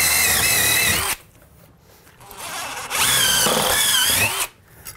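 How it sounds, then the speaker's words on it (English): A power drill whines loudly in two bursts, about a second and a half each, boring a hole in an outside wall, with a brief quieter pause between them and no talking. "This gives me the ability to drill a hole in the outside of the wall and have perfect control."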